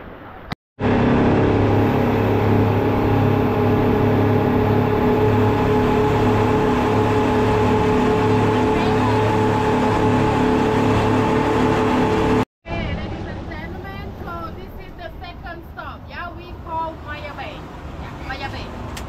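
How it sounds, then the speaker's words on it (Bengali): Tour boat engine on a Phi Phi island tour in Thailand, a loud steady motor drone running continuously, then a rougher stretch with wind and water noise and people talking. "তো সামনেই আমাদের বোট দাঁড়িয়েছে, এটাই হচ্ছে আমাদের বোট। তো এখন বোটে উঠবো।"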